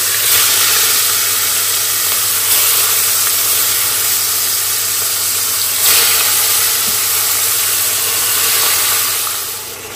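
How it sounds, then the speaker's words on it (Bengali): Fish frying in oil in a pan, a steady loud broadband sizzle and hiss that holds almost unchanged from start to finish, with slight swells and no voices. "মাছটা একটু ভেজে নিচ্ছি"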